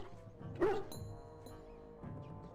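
A Mabari Warhound in Dragon Age Origins gives a single short bark or yip partway through, over a quiet ambient game soundscape with faint tonal music.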